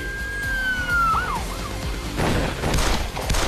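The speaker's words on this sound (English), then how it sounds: "Apabila siren berbunyi," A police siren wails with a falling tone, then gives way to loud, busy street noise and rumbling traffic.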